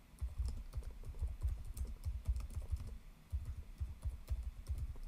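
Fingers tap out quick, irregular bursts on a computer keyboard during Arduino serial input work, close and fairly soft, with brief pauses between runs of keystrokes and no talking.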